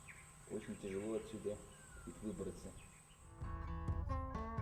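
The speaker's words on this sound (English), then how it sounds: "We are listening to birds singing." Morning birdsong at a temple: several chirping, warbling calls in short bursts, with a faint insect-like buzz and a brief burst of louder layered sound near the end.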